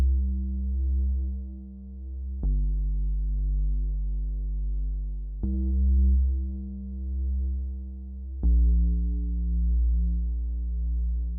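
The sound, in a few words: sub bass in FL Studio beat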